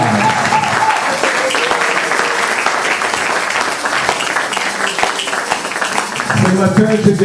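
A church congregation bursts into loud, sustained applause and cheering, a dense wall of clapping and voices that swells again near the end.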